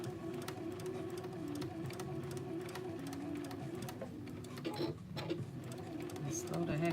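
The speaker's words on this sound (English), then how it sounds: "Let's just go ahead and understitch." A sewing machine runs an understitch in a steady, fast rhythmic clatter of needle strokes, with a brief pause and restart near the end, while a person talks over it.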